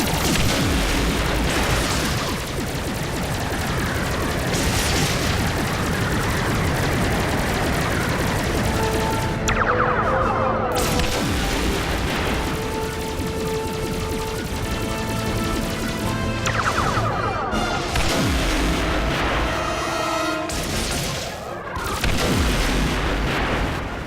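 Starship phaser fire and explosions in a Star Trek space combat game: dense, loud, continuous barrage of booming blasts and crashing impacts layered with tonal weapon whines, filling the whole stretch.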